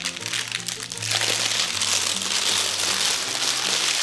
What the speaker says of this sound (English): and then you pull off the paper.